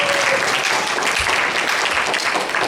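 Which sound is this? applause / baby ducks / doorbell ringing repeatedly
applause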